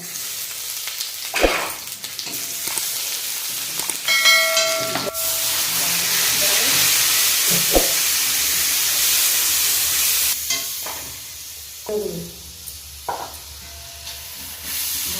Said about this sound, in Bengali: আর এখানে নিয়ে নিয়েছি জিরে শুকনো লঙ্কা দিয়ে দেবো আদা বাটা